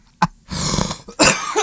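Coughing in a radio studio comes close and loud: one short hack, a rougher, drawn-out throaty cough, then another strong burst near the end, with no talking.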